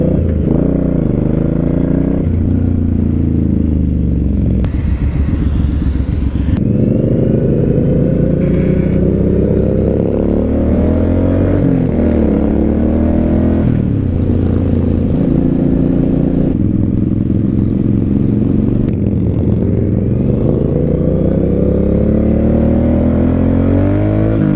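A Suzuki Boulevard M109R motorcycle is ridden continuously, its engine rumbling close and loud with repeated rises and falls in revs as gears change, no talk over it.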